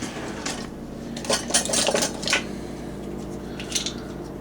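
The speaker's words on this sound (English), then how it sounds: "And you want to take a measuring spoon." A metal measuring spoon is handled in a kitchen while beer can chicken is prepared, giving a few light clinks and taps under steady background noise, with one clearer clink near the end.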